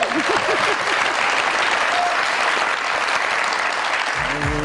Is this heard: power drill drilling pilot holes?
no